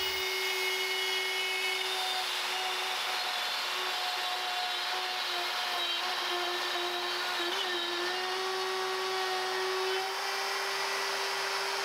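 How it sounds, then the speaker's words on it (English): A stubby collared router bit cuts a shape into copper sheet, producing a loud continuous high-pitched whine with steady tonal hum, close and uninterrupted throughout. "I have a stubby little router bit with a collar in here to ride my pattern and cut the shape into the copper."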